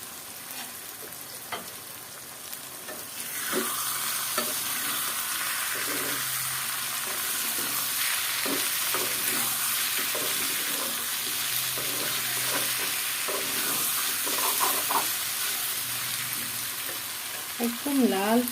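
A potato and egg curry being sautéed in a pan: a steady sizzle with a run of scraping stir strokes throughout. A quieter stretch opens the clip, and a faint voice is heard at times.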